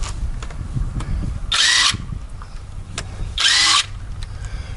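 A DeWraf 20V cordless 1/2-inch impact gun running close by in two short bursts of bright, high-pitched whirring and hammering, separated by a pause filled with low background rumble.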